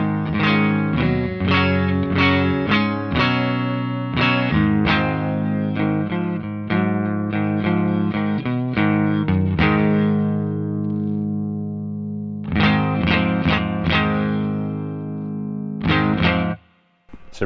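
A clean electric guitar plays through a Peavey Bandit Silver Stripe amp, loud and close, with a quick run of plucked notes and chords, a pause, then a few more strums.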